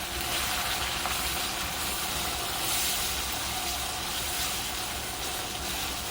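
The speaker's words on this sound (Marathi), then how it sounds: "कांदा चांगला सोनेरी होईपर्यंत आपल्याला भाजून घ्यायचा आहे." Chopped onion frying on high gas heat in a pan until golden, a steady broadband sizzle and hiss that holds at an even level throughout, close and continuous with no talking.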